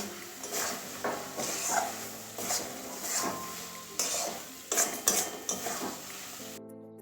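A spatula scrapes and clatters against a pan as fried pointed gourd is stirred into a spiced masala, a series of close, irregular metallic scrapes and knocks rising and falling in short bursts.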